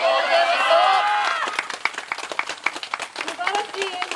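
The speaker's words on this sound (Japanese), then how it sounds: "皆様大きな拍手をお願いいたします" Festival crowd applauding at the finale of a group dance, a dense wash of clapping that thins into scattered individual claps, heard close and fairly loud with no talk over it.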